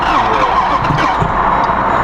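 A supercharged Jeep SRT Trackhawk engine runs loud and close with a steady, continuous drone, without clear rev peaks.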